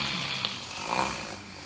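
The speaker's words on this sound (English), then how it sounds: "What's that noise? Who's that snoring?" Cartoon snoring from sleeping animated shapes in a children's craft show: a soft, breathy, rasping drone with a couple of slightly louder swells, carrying on alone without talk.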